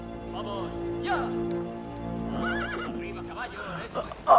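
A horse whinnies in shrill, wavering calls over a low steady hum, with people speaking around it.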